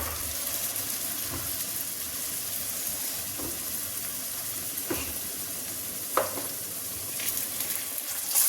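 Urad dal kachoris fry in hot oil with a continuous bubbling sizzle, broken by a few louder pops and splutters as the oil is stirred and ladled, close and alone.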